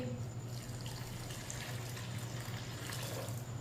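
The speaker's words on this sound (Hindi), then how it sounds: "ये मैंने 1 गिलास पानी डाला है।" Water poured from a glass into drained, soaked lentils (dal) in a cooking pot, a steady continuous splashing stream heard close up with no talking.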